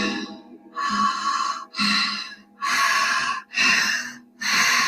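Deep, slow breaths during a guided meditation, about five long inhale and exhale cycles in steady rhythm, close and fairly loud with an airy, rasping texture and no talking over them.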